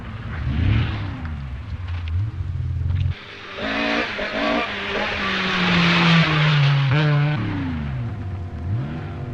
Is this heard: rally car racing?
yes